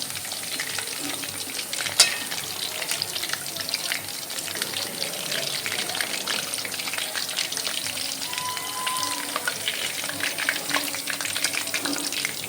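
Chicken 65 pieces frying over high gas until golden brown, turned over in the pan: a steady close crackling sizzle with occasional spatter and turning sounds, no one speaking.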